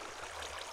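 Flowing water in Minecraft, placed as part of building an iron golem farm, makes a steady, soft rushing hiss throughout, with no talking.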